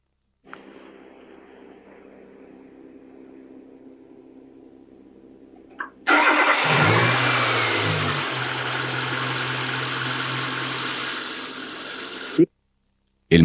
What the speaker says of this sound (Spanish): El motor parecería estar en ralentí normal